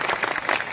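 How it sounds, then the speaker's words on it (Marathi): Audience clapping at a temple anniversary kirtan program, a dense steady burst of applause lasting under a second with no voices on top. "जरा जोरात टाळ्या वाजवा."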